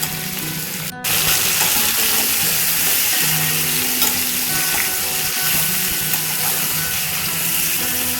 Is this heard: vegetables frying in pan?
yes